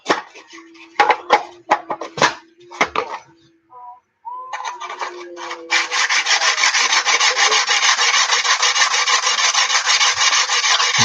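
A Friedr Herder straight razor blade is sharpened by hand in repeated rasping strokes, first short and uneven with gaps, then a long continuous scraping run, close and fairly loud.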